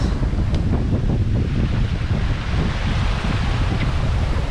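Wind buffeting the microphone and waves rushing past the hull of a sailing boat under full sail in 13 to 15 knots of wind, off the Canaries toward Cape Verde, a continuous loud rough wash with no voices.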